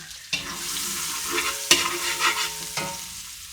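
Garlic stir-fries in hot oil with a bright, continuous sizzle and a few sharp scraping strokes of a spatula, close and fairly loud.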